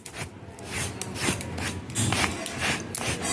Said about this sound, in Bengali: ব্রাশটা নিয়ে খুব ভালোভাবে ঘষে ঘষে প্রত্যেকটা অংশ খুব ভালোভাবে ঘষে ঘষে